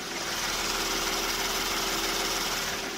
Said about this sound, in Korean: 지금 영상에서 들리시는 것 같이 굉장히 정숙하고 규칙적인 엔진 사운드 들려주고 있고요